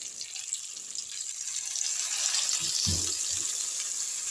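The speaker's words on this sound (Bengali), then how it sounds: "এবার সামান্য একটু জল দেবো যাতে নিচে গড়িয়ে না যায়" Water hisses into a hot pan of spiced dried fish cooking with cumin powder, salt and ginger paste, a steady bright sizzling rush that swells midway, while a person speaks briefly underneath.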